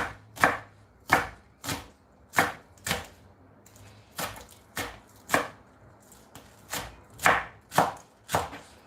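Knife slicing spring onions on a cutting board, a steady series of about fifteen crisp close chopping knocks at a moderate even pace with a brief pause midway.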